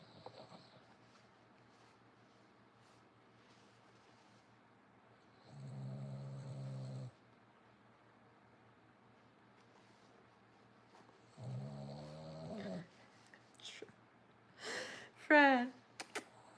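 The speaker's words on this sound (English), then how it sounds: "You're snoring really loud." A pet snores loudly in two long, rough rattling breaths spaced several seconds apart against a quiet indoor hum, followed by a few brief shuffling noises and a squeaky sound near the end.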